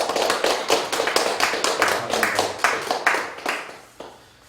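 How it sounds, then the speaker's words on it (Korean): A church concert audience gives the pastor a round of rhythmic, closely spaced applause that holds steady for a few seconds, then thins and fades out. "귀한 은혜 말씀 주신 우리 유영건 목사님께 다시 한번 감사의 박수를 한 번 더 주십시오"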